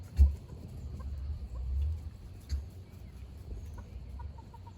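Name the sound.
backyard hens clucking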